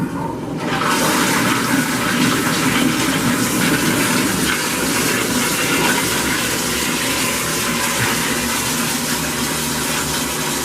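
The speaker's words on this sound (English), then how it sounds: "I'm gonna flush it." A loud toilet flush in a Japanese resort hotel in Noboribetsu roars up within the first second and keeps rushing steadily for about ten seconds, close to the microphone with no talking.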